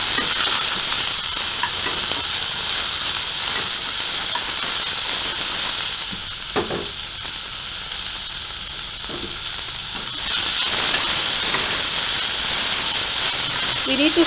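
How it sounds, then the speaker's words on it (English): Chopped onion, green chilies and coriander frying in a pan for egg kofta, giving a steady, close hiss of sizzling oil with a few brief stirring scrapes, loud and continuous throughout. "We need to fry this till the onion turns little soft."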